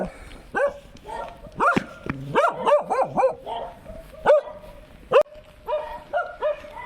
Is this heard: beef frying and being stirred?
no